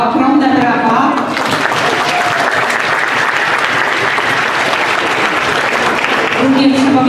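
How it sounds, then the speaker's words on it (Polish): Loud crowd applause bursts out for the Polanie ensemble at a Polish school nativity performance and stays dense for several seconds, with a voice speaking before and after it. "ogromne brawa"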